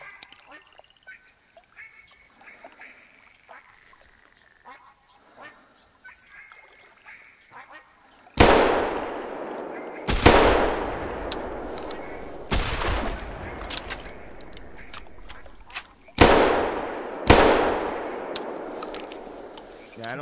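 A 16 gauge double-barrel shotgun fires six loud blasts outdoors during a bird hunt, each sharp report trailing off into an echo; ducks and geese call faintly beforehand and people talk quietly.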